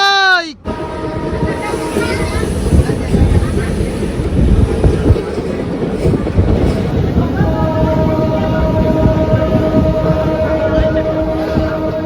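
A DEMU passenger train on the Beed–Ahilyanagar line rumbles steadily along the rails, with a horn blast at the start and another long horn tone near the end.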